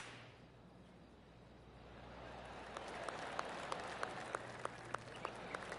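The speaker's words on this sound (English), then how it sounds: "Oh, golf clap." Polite golf clap from a gallery crowd in the video game PGA Tour 25, a soft spread of scattered hand claps rising over a low ambient bed, with a few sharper individual claps standing out near the end.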